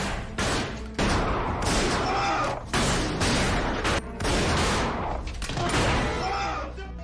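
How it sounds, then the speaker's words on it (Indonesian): Gunfire rattles through a film shootout, with bursts of rapid shots and heavy reports coming in loud waves separated by brief gaps, dense and close. "Baku tembak pun langsung terjadi"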